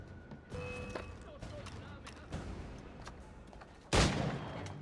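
A pistol shot in Assassin's Creed 4: Black Flag, a sharp, loud crack near the end, following scattered thuds and game noise with people talking throughout.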